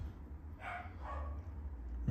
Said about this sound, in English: Oh boy, the dogs are going crazy. Someone's probably walking by.